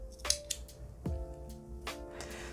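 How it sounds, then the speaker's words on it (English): Scissors snip through crochet yarn close by, giving a couple of short, quiet cuts spread over a few seconds. "and cut your yarn"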